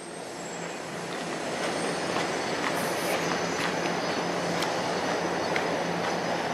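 Trains rolling on city tracks in Midtown Toronto, a steady broad rumble of wheels with faint squeals and clicks, heard from a distance on an outdoor street walk, with no talking.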